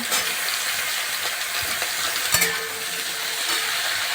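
Ridge gourd, pumpkin and vegetable stems tossed into a hot frying pan for a simple mixed vegetable dish, producing a continuous close sizzle with stirring and scraping and a brief clatter midway.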